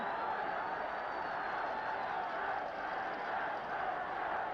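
Roughly 55,000 fans packed into a stadium for a 1964/65 Division One match between Manchester United and Chelsea produce a dense, unbroken roar that holds at a steady level throughout.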